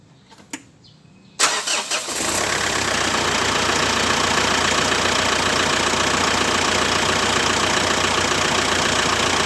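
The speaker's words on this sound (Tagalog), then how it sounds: "So papatakbuhin ko muna yung makina." A few clicks, then an engine cranks and catches, settling into a steady, loud, continuous idle that runs on unchanged.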